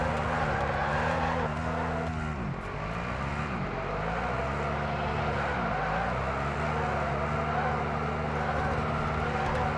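Racing engine in a video game holding a steady high drone, with repeated sweeping pitch dips as it brakes and shifts, plus tire squeal; loud and continuous.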